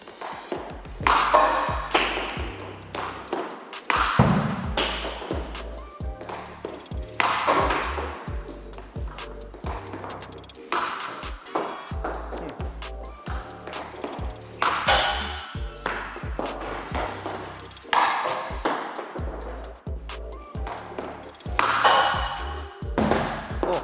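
An ice hockey stick repeatedly shooting a puck, sharp close cracks and thuds coming every second or so in a steady series, with some faint talk between shots.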